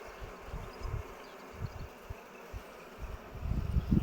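Bees in the hives of an abandoned apiary, a fairly aggressive colony, hum in a low, steady drone that swells toward the end, fairly near and alone without talk.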